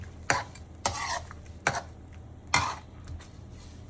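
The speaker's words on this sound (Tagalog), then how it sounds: "haluin muna natin. Haluin para masip-sip yung lasa" A utensil stirs spicy garlic salmon with abalone in a pan, making four scraping sweeps at a steady pace, each clear and close over a soft background sizzle.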